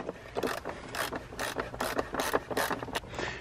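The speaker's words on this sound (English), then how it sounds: "Keep cranking until it gets tight." A wrench ratchets as it tightens the clamp on a Jandy pool filter, giving a steady series of close, rasping clicks in regular pulls with no talk.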